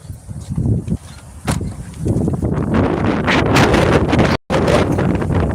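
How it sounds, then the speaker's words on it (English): Strong wind buffets the microphone outdoors, a loud, roaring rumble that rises and falls in gusts with one brief dropout. "See how windy it is, though?"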